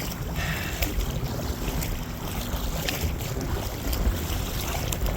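Steady wind gusting and rushing across open water at a boat dock on LWR, with broadband buffeting and occasional sharper gusts, loud and continuous with no talking.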